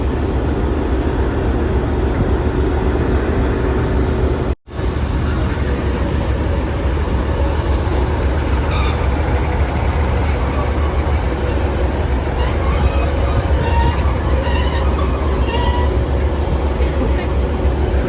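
A train on the Tyndrum and Crianlarich line in the Scottish Highlands makes a steady, loud rumble that continues throughout, with a brief dropout early on.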